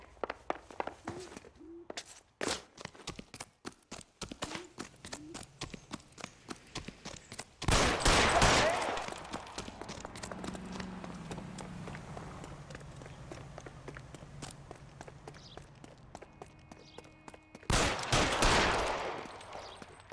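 Gunfire in the video game L.A. Noire: a rapid series of sharp shots early on, then two loud bursts separated by quieter action noise and running footsteps.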